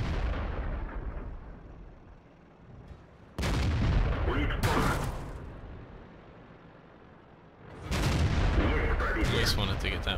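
Tank cannon fire from the SU-85I tank destroyer in World of Tanks on the Sand River map, with two loud broadband blasts about four seconds apart, each decaying slowly, over a rumbling engine and battle ambience.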